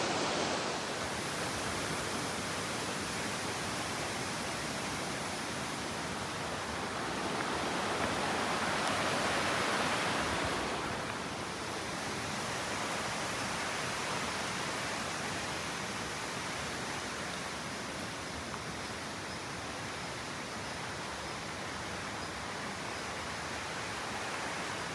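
A high-running stream rushes beside a village farmhouse in rural Japan, a dense, steady broadband wash of flowing water that swells briefly midway, no voices.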